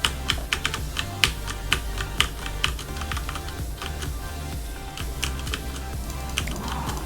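A loud computer keyboard clatters during a StarCraft match: rapid, uneven bursts of sharp key clicks close to the microphone over a quiet, low game background.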